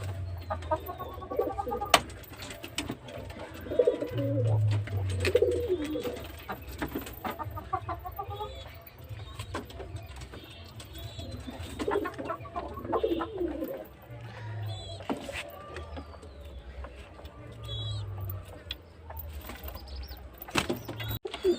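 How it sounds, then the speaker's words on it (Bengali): Pigeons coo repeatedly while being fed, with low, throaty calls that come in clusters over steady, close-up bird chatter and rustling. "তো গাইস এখন আমি পায়রাকে খাবার দিতে চলেছি"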